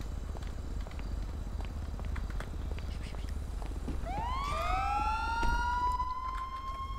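A police car siren in a GTA roleplay game winds up partway through and holds a rising, wailing tone, loud and close over a steady engine rumble.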